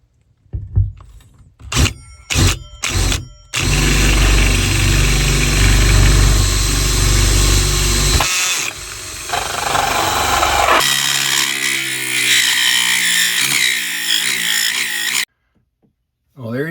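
A power tool cuts a vent hole into a wooden RV bathroom door with a loud, sustained whining drone that shifts in pitch partway through, after a few short start-up bursts, stopping abruptly near the end.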